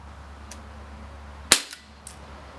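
An Umarex Walther CP99 Compact BB pistol fires one sharp, close crack against a quiet background, with a few faint clicks around it.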